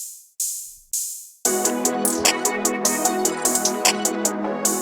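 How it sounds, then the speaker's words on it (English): Open hi-hats in a trap beat ring out alone three times with long hissing decays, then the full loop comes in with a busy, regular hat pattern running over it. "Got a basic open hat pattern in."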